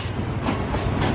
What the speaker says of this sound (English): There's another train coming in now